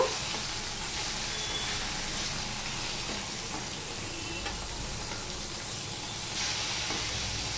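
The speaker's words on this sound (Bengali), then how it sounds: "মাছের এক পিঠটা হয়ে গেছে, আমি বেশি কড়া করে ভাজবো না, লাইট ভাবে ভেজে নেব" Bata fish fry in mustard oil in a pan with a steady, dense sizzle that holds evenly throughout, close and moderately loud with no talking.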